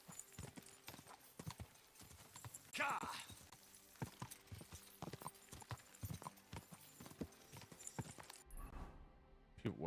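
Rhythmic horse hooves from the video game Kingdom Come: Deliverance II clip-clop steadily at a walking pace, close and distinct, with a brief whinny partway through and faint voices in the background.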